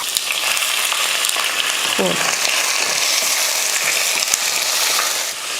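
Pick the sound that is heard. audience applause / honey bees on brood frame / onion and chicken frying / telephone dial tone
onion and chicken frying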